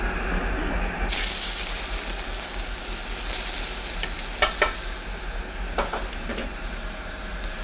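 Shrimp sizzle in hot oil in a sauté pan in a restaurant kitchen, a steady loud frying hiss that jumps up as they hit the pan, with a few sharp crackles and pops along the way.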